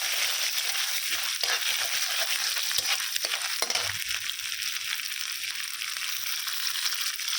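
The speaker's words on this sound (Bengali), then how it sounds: "নারকেল দিলাম, নারকেলটা ভাজা ভাজা হয়" Grated coconut fries in a pan with a steady, close, bright sizzle, broken by occasional scrapes and taps as it is moved around.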